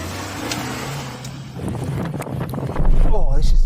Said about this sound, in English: Oh, this is such a great little car.